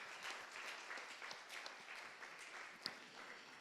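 Faint, steady clapping from an audience at a law evening event on mediation, continuous and somewhat distant, with one sharper clap standing out near the end.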